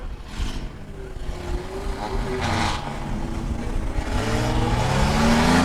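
Autocross race cars racing on an ice track in an arena at Glenwood, Minnesota, engines droning and revving as they pass, rising toward the end, with a commentator talking over the noise.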